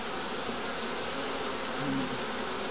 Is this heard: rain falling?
no